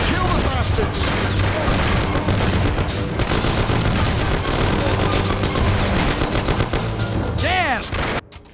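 Dense gunfire in a shootout in the PC game Mafia, continuous loud volleys of shots and bursts filling the scene, with shouting voices over the top and the noise cutting off abruptly at the end.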